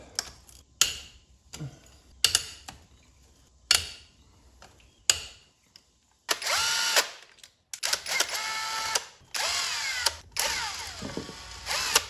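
A power tool removes a small 12mm bolt on a Honda 420 engine during a top-end rebuild, giving several short, loud whirring bursts with pauses, then longer sustained runs of ratcheting and spinning near the mic.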